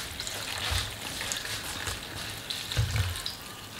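Water running into a stew pot of green cabbage, potatoes and meatballs, a steady close splashing flow with a couple of heavier gushes, no voices.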